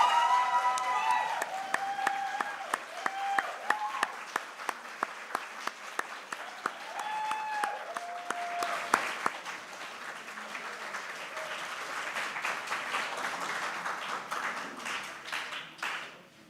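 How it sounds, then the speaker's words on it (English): Crowd applause at a game design awards ceremony for the winners, a sustained wash of clapping with some sharp individual claps and cheers early on that fades toward the end. Faint voices sit underneath. "Let's give one final round of applause to all our winners, our nominees, and every single team"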